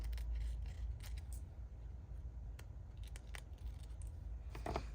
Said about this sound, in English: I'm gonna grab my little scissors for this one.